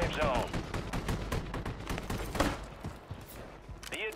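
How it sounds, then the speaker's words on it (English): Gunfire in the Call of Duty Rebirth Island battle royale, a dense burst of rapid shots and thumps, loud and close, with a voice talking over the firing. "Why is he shooting from that far?"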